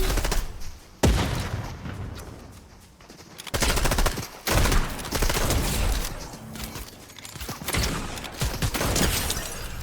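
Shotgun blasts in the Fortnite video game, fired in a close fight: several loud, sharp bangs with abrupt attacks, spaced a second or two apart over busy game sound effects and other gunfire.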